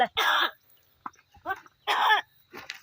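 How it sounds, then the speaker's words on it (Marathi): An animal coughs in several harsh, raspy bursts, close by, separated by short quiet gaps. "हा खोकला झालायत"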